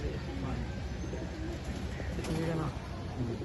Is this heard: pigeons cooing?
yes